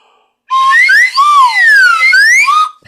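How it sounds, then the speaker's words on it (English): A slide whistle glides up and down in pitch, one continuous wavering tone lasting a couple of seconds, close and loud. "A slide whistle."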